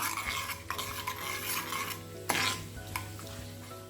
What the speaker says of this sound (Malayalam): പെരിഞ്ജീരകം, 1 ടീസ്പൂൺ നല്ല ജീരകം, ഇതെല്ലാം ചേർത്തിട്ട് നന്നായി ഇതിലിട്ടിട്ട് മൂപ്പിച്ചെടുക്കാം.